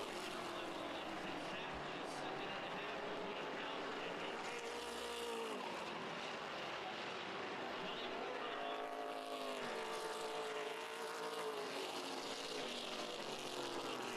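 Race cars roaring around the Wiscasset track during a broadcast race, a steady dense engine drone with rising and falling passes, loud and continuous, with commentary voices mixed in underneath.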